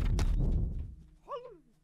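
Firework archers' rockets explode in Totally Accurate Battle Simulator with a loud, deep boom and crackle that rumbles away over about a second. A brief voice sound rises near the end.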